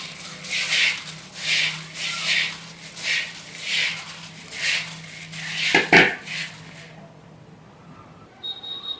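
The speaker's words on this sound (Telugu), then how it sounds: "ఇలాగా పసుపు ఆయిల్ వేసుకున్న తర్వాత చేత్తో వీటిని ఇలా మంచిగా కలిపేసుకోవాలి" Puffed rice tossed and mixed by hand with oil and turmeric in a bowl, a steady rhythm of crisp rustling, scraping strokes about once a second that stop near the end.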